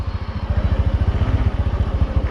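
A motorcycle engine runs close by as the bike is eased off, its low exhaust thumping in a quick, even rhythm with a slight mechanical clatter.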